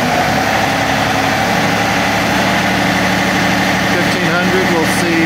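An engine idling steadily at about 950 to 1000 RPM, a continuous low droning hum with vibration, close and loud throughout without break.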